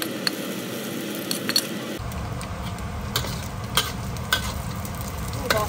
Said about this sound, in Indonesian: Tuangkan sedikit minyak untuk menggoreng ya. Mari kita tonton masak, jadi kita goreng sambal tadi ya.